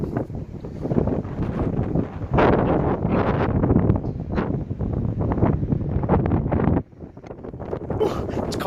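Steady, heavy wind buffets the microphone with a continuous low roar, gusting in strength before briefly dropping off near the end.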